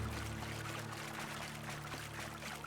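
Water flows steadily in The Outer Worlds, a continuous quiet pouring wash with a low hum underneath, faint and unbroken throughout.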